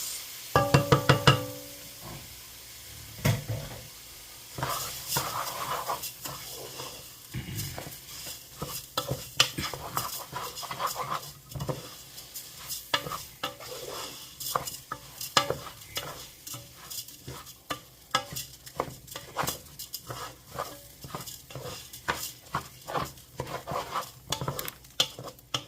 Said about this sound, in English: Now we're trying to toast our rice.